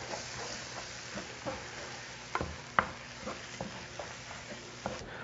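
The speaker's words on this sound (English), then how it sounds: "Now to this, I'm going to add a couple of tablespoons of flour. I'm really going to get this mixed in here well." A spoon stirs flour into cooked-down, caramelized onions in a pot for French onion soup, giving soft scraping and a low sizzle with occasional sharper taps against the pan.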